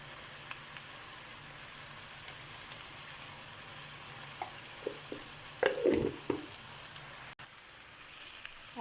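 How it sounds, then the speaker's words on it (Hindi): Chicken frying in a coal-fired karahi with ginger-garlic paste, a low steady hiss with a few soft clinks and one brief louder scrape of stirring near the middle, with no speech. "ऑलमोस्ट हमारा चिकन फ्राई हो गया है"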